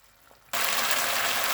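Chicken leg pieces cook uncovered in a pan over a full flame, a loud, steady broadband sizzle that bursts in abruptly after a brief quiet moment and then holds constant.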